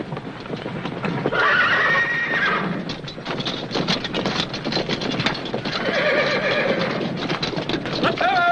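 Several horses whinny and neigh loudly in a stable yard amid clip-clopping hooves, with people talking in the background.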